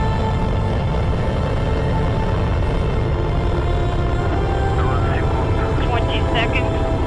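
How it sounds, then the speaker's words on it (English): Soyuz TMA-05M rocket launch with its first stage thrusters firing: a loud, steady, broadband roar that fills the whole stretch without letting up, with a voice talking faintly underneath. "First stage thrusters are operating nominally."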